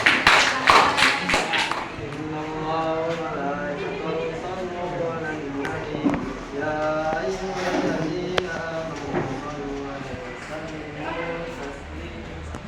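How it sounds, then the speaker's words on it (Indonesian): A short burst of audience applause for group 2 in a class presentation setting lasts about two seconds. Clear speech then follows over a quiet room. "kasih aplaus untuk kelompok 2"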